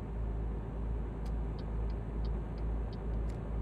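Truck driving in Euro Truck Simulator, a low steady engine rumble cruising at a constant pace with faint regular ticking, like an indicator, over it.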